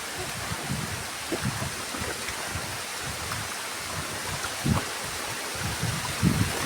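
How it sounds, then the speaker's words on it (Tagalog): Steady rushing water of Dampalit Falls in Laguna fills the scene with broadband noise, carrying a few louder splashes and surges, close and continuous, with no speech. "Dampalit Falls."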